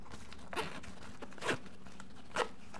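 A camo pouch zipper pulled in three short, crisp zips spaced about a second apart, close and fairly quiet over a low steady background hum.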